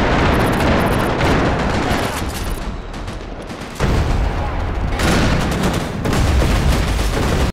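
Dense, continuous bursts of gunfire fill a Max Payne 3 multiplayer match, with rapid overlapping shots and brief lulls, loud and close throughout.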